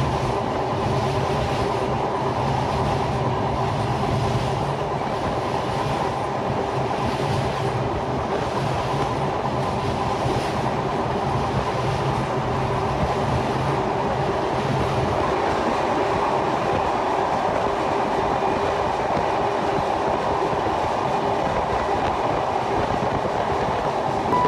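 Rupashi Bangla Express passenger train running at about 80 to 85 km/h on the link line approaching the Padma Bridge, heard from inside as a loud, steady rumble with continuous rail noise and no talking.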